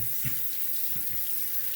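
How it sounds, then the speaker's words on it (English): Tap water runs steadily into a sink to wet Japanese natural sharpening stones for razor honing, a soft continuous splashing stream heard close with no talking. "Let me wet the stones real quick."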